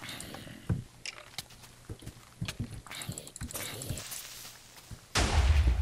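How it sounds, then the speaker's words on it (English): A TNT cannon fires explosives in Minecraft: scattered small thumps and clicks lead up to a sudden loud, sustained booming blast that fills the last half-second. "It just shot a cannon of TNT."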